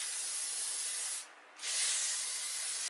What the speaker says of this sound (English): I am just going to use the Toni & Guy texture creating spray